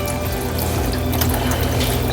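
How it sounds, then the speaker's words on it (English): Vegetable broth pours into a cooking pot, a steady close liquid rush with faint clinks and mechanical rattles, no talking. "you're gonna add your broth. So we have vegetable broth. You're gonna put about 2 cups."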